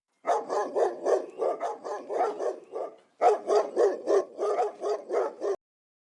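Two huge dogs bark aggressively in rapid repeated bursts, loud and close, with a short pause midway before the barking resumes.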